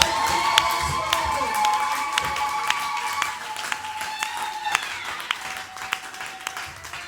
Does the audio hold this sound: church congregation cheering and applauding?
yes